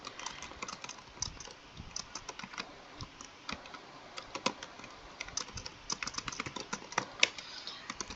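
Steady typing on a computer keyboard, a quick irregular patter of key clicks with occasional sharper strokes, close and fairly quiet with no talking.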